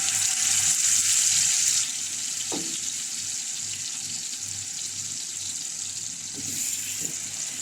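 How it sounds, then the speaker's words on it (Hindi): Chicken tikka frying in hot oil over a low flame, a steady close sizzle and hiss that runs throughout, with a few soft clinks and touches partway through. "लो फ्लेम पर हम चिकन को फ्राई करेंगे।"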